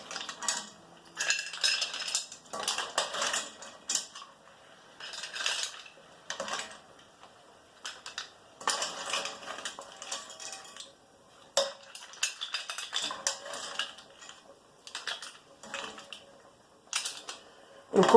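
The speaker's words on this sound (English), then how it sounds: "I like using one of these" A strainer spoon lifts cooked mussels out of a pot, with scattered clinks and clattering shell knocks against metal in short bursts, fairly close and with no talk.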